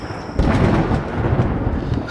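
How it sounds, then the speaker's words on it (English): Thunder from an approaching storm breaks in suddenly after a quiet start, then rolls on as a loud, deep rumble that stays on to the end, with no voices over it. "And there's a storm coming."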